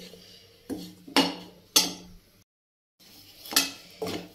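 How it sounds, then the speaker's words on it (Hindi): A ladle scrapes and clinks around a cooking pot in a home kitchen in a few distinct sweeping strokes with a short pause between them, close and clear with no talking. "कड़छी इसमें ऐसे घुमाते रहें ताकि ये नीचे ना लगे जले ना"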